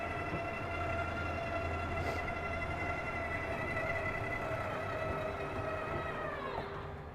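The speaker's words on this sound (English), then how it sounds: "push button to extend your single slide" A 2019 Winnebago View 24J's single slide-out extends with a steady electric motor whine that holds its pitch, then drops and cuts off near the end.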